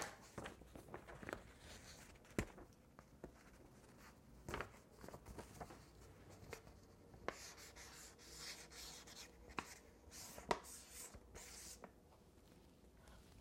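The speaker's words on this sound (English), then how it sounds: "I'm doing some drawing at home." Pen scratching and rubbing on paper while someone draws at home, quiet and close, with irregular strokes broken by sharper taps and brief pauses.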